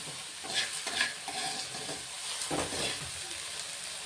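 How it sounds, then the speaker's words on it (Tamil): Okra (ladies finger) frying in a pan as tamarind water is poured in, giving a steady close sizzle with stirring scrapes and a few louder splashy bursts, no voices. "இப்போ நம்ம புளி இதில் ஆட் பண்ணிக்கலாம்."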